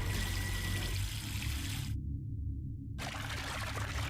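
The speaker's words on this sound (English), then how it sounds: "I can actually turn the water on." Water pours from a tap in the Zero Time Dilemma video game as a steady, close, hissing rush. It cuts out for about a second partway through, then resumes.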